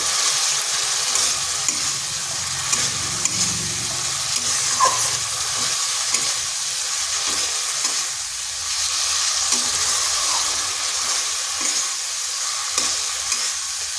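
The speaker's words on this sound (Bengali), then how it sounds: "দিয়ে দিচ্ছি আলুটা এই মশলার সাথে একটু সময় ধরে কষতে হবে।" Potatoes sauté and get stirred in a spiced masala in a pan while cooking eggplant with chana dal: a steady close sizzle with repeated scraping stir strokes, no voices.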